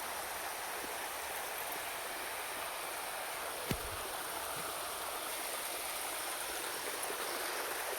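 A stream flows beside a field outdoors, a steady even rushing of water heard alone with no voices, quiet and unbroken apart from one brief knock.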